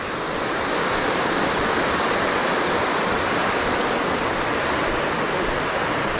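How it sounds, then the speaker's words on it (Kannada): A fast Himalayan river rushes past a forest-trail crossing where vehicles ford the water. The roar is loud, broad and steady and carries on unbroken, and no one speaks. "ಇಲ್ಲಿ ನೀರು ಮಾತ್ರ ಒಳ್ಳೆ ಫ್ಲೋ ಉಂಟು"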